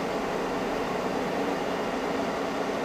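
Wanhao Duplicator 8 large resin 3D printer starting a print: a steady, even mechanical hum and whir with broadband noise, constant and fairly loud throughout, no talking.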